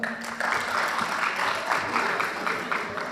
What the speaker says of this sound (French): Mesdames et messieurs, applaudissez bien fort pour Monsieur Chakib Ben Moussa.